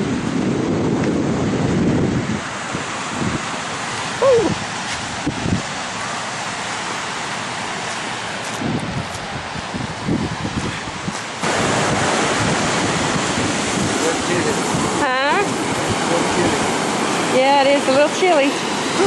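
Surf rolls in steadily at Vilano Beach, Florida, with broad continuous wave wash and gusty wind buffeting the microphone; a crowd is out on the sand, and a few voices speak briefly over the ocean roar.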